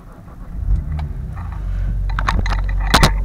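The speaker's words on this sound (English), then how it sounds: "let me start the car" A BMW engine is started: a short clatter and crank, then the motor catches and settles into a loud, steady run, with a few sharp knocks near the end.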